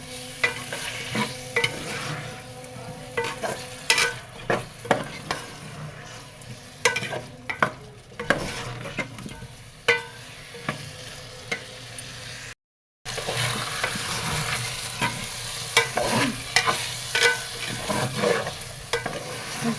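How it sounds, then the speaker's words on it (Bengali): Washed red lentils and potatoes are sautéed in a pan, with a steady frying sizzle under close, irregular scraping and clattering stirring strokes, briefly cut to silence partway through, with no speech. "মসুরের ডাল দিয়ে ভালো মতো কষায় নেব।"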